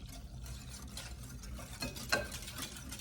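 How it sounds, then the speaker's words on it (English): Instant vanilla pudding whisked into a pumpkin dessert mixture in a bowl, a steady, soft swishing with a brief sharper tap near the end. Close and quiet, with no voices. "of instant vanilla pudding. I'm going to whisk that in."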